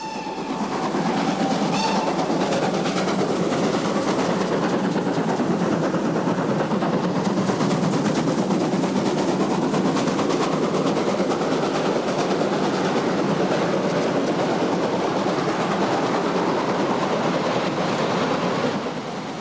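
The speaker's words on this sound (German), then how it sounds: "In Doppeltraktion verlassen 44/10/93 und 52/66/66 den Bahnhof Gehlberg." Steam locomotives 44 1093 and 52 6666 working in double traction depart Gehlberg station on the Arnstadt–Meiningen line, a loud, steady rolling roar of exhaust and wheels that holds for about twenty seconds with no talk.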